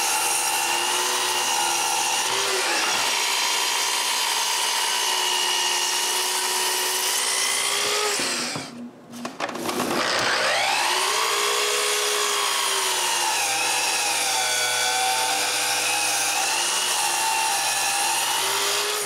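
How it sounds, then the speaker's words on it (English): Power sander smoothing a wooden skirt board for a stair step, a loud continuous whine that dips briefly partway through as the tool is lifted, then resumes steadily. "To avoid getting some splinters, I sand this really smooth."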